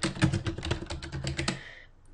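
Fingers tap a computer keyboard, a quick run of about a dozen close, crisp keystrokes, ending in quiet.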